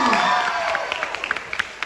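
A school quiz competition audience applauds a junior high team, with scattered claps rising under a host's voice that talks over the start.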